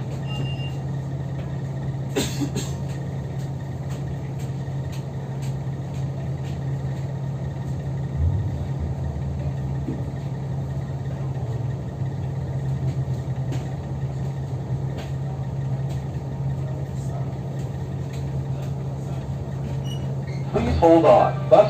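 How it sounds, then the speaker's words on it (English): A Las Vegas Strip city bus rolls along with a steady, loud low engine drone and road rumble throughout, a few faint beeps and clatters near the end. "Hold on, bus will be in motion."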